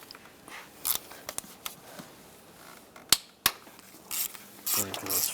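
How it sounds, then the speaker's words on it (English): A ratchet fitted with a 5mm hex bit works loose the valve cover bolts on a 1999-2005 Volkswagen Jetta 1.9 TDI, giving scattered metallic clicks and a few sharp snaps, close up, with quiet gaps between bursts. "Now I'm going to take the screws out for the valve cover, or the bolts. I'm going to use a hex bit, a 5mm."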